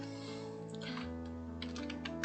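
Keys on a computer keyboard clack in short, light bursts as HTML anchor tag text is typed, close and fairly faint over a steady electronic hum, with no talking.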